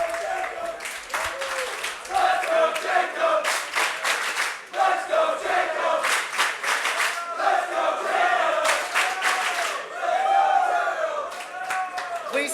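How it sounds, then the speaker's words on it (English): A crowd at a convention assembly applauds the candidates after a debate, with sustained clapping and cheering in waves over about twelve seconds, with voices mixed in. "Please take a moment and give all of the candidates a round of applause for a terrific debate."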